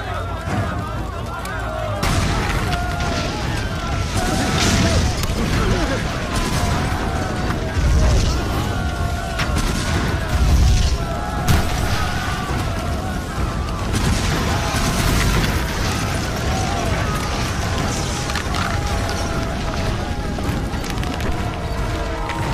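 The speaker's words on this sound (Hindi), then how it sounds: "3 मिनट बाद इस साइट पर एक के बाद एक धमाके होने वाले हैं" Explosions go off one after another at a site: repeated heavy booms and crashing blasts with rumbling debris, loud and continuous over about twenty seconds, with voices shouting now and then.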